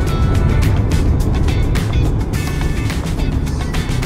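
Trucks and other road traffic rumble past steadily and loudly on a road beside a landfill, a continuous broadband roar with no pauses.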